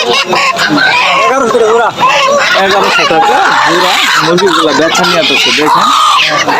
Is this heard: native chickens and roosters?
yes